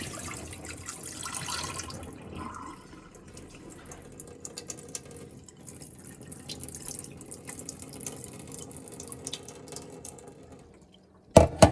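Running water splashes and trickles steadily as cloudy rinse water is poured off washed rice from a pot, with a brief louder clatter at the very end.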